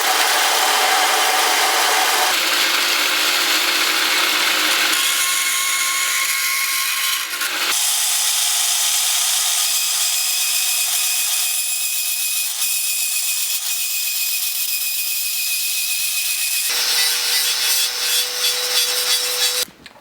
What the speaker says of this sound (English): 20 gauge sheet metal, which is pretty thin stuff. I've got to cut this.